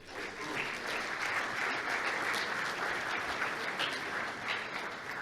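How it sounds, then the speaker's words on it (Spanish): Steady audience applause at a sports psychology presentation session, continuous and fairly even throughout, a dense wash of clapping from a seated crowd with no speech over it. "peço desde já uma salva de palmas"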